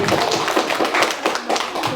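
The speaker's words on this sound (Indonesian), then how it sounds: "Tepuk tangan untuk saya dulu." A group of junior high school teachers in Manggarai Timur claps together at a morning school gathering, producing steady, close, dense applause throughout.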